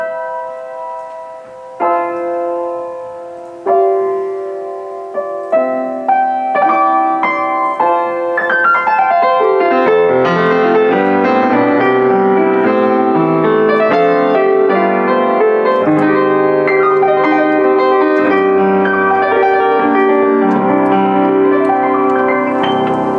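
A refurbished Yamaha U1 upright piano played with the lid open: a few sparse opening notes grow into a full, bright passage of rich sustained chords and runs, loud and close, with resonance lingering.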